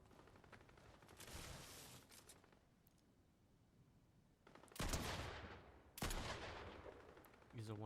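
Pistol shots ring out in a video game match, a few sharp bursts near 4.8 and 6 seconds over a steady low game ambience, loud and close.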